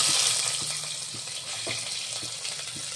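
Soft, continuous sizzle of onion frying in hot oil with mustard seeds, cumin and curry leaves, a steady hiss with occasional light taps from a spatula or pan.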